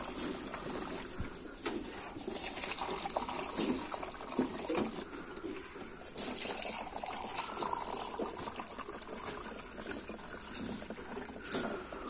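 Energy drink poured into the water for pet rabbits, a faint, steady trickle and splash of liquid lasting several seconds with light background clatter and no speech.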